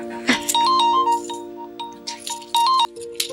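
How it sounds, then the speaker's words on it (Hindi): A mobile phone plays a bright electronic ringtone of chiming tones in a repeating melody, fairly loud and close, with a few clinking sounds mixed in. "किसी का फोन आ रहा है।"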